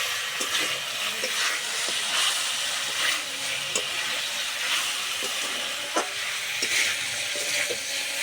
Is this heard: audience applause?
no